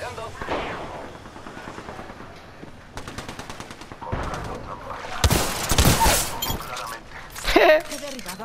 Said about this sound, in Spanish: Le dio un headshot a la Mozambique.